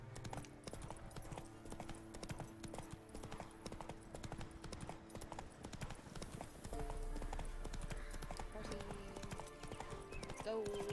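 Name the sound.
horse hooves galloping in video game The Witcher 3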